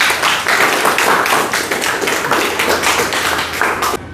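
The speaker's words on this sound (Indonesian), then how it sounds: "Tepuk tangan untuk Tena ya." A classroom group claps together in a dense burst of applause that lasts a few seconds, then tapers off.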